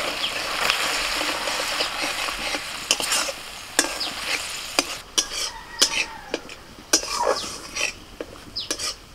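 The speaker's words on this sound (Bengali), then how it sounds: "ফোড়নটা একটু ভেজে নিয়ে বেটে রাখা বান্নাটা দিয়ে দিচ্ছি।" Dried red chili and five-spice seeds with ground paste fry in oil for a village crab curry, a steady crackling sizzle broken by sharp scrapes and clinks of a spoon stirring in the pan, close and fairly quiet.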